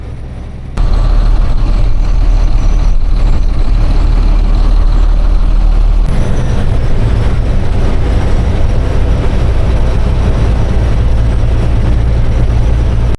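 A SEYON Travels bus cruising along the Madurai outer road toward the Dindigul bypass, its loud, steady engine drone and road roar filling the cabin after a brief quieter start, with a short jolt partway through.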